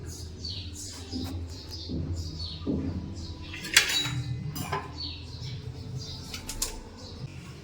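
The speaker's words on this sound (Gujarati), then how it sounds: "સવારમાં તો જો અમારા કબૂતર બધાય નાવે છે, જો કેવું પાણીમાં મસ્તી કરે છે" Pigeons bathing and splashing in water, with soft wing flaps, flutters and small splashes coming in bursts at close range, plus a few faint chirps and light clinking sounds through the scene.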